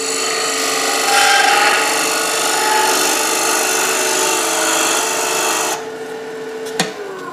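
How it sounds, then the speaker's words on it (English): A small wood-turning gouge cutting a small enclosed form on a lathe gives a loud, continuous rasping, vibrating whine that stops abruptly near the end, followed by a single sharp click. "Did you hear the vibration though with the smaller tool?"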